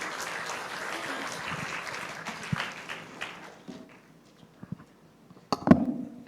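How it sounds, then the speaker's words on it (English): Audience applause welcomes a guest speaker onto the stage at a professional summit, a moderate, diffuse clapping that fades over several seconds before a few sharp close knocks near the end. "Give her a round of applause."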